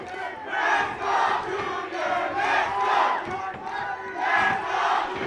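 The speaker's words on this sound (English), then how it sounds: "The crowd letting Junior Columbos know they're cheering for him." A boxing fight-night crowd cheers for a fighter in rhythmic swells, repeated loud chant-like roars rising and falling about once a second.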